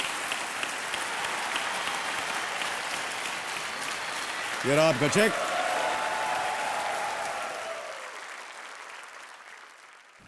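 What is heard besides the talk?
studio audience applause on quiz show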